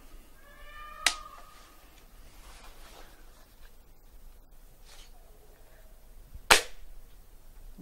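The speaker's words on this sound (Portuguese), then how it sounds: "Eu armo o fecho." Antique 17th-century Sri Lankan temple gun with a silver-inlaid barrel, its lock cocked in two sharp metallic clicks spaced several seconds apart, close and crisp against a quiet room.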